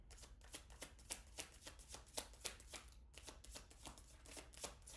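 A deck of tarot cards is shuffled up close in a quiet room with rapid, crisp riffling bursts and a brief pause midway.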